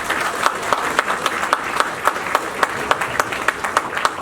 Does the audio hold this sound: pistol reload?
no